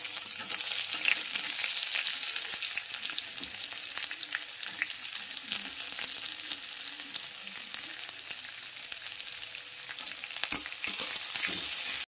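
Onions added to hot oil for restaurant-style chicken 65, frying with a loud, dense, continuous sizzle and crackle close by, with faint stirring scrapes underneath and no talk.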